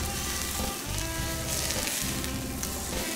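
Curry leaves and kaffir lime leaves hit hot oil in a frying pan where blackfish is cooking, giving a loud, steady crackling sizzle with brief dips, close up and without voices.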